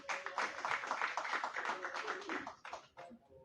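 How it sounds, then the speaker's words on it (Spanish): Steady applause from a seminar audience in a hall, many hands clapping at a moderate distance. It holds fairly even, then thins into a few scattered claps near the end. "Un fuerte aplauso también para la compañera."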